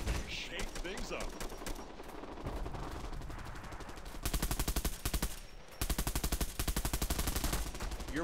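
Rapid bursts of automatic gunfire from the online shooter game Bullet Run, a dense, continuous machine-gun rattle that steps up into fast, evenly spaced volleys halfway through, loud and close, with faint talk underneath.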